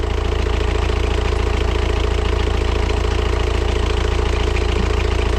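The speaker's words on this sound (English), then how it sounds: "So that is the quietest this engine has ever sounded." A sailboat engine idling quietly, a steady low mechanical hum with a fine rapid pulse, continuous and close with no voices.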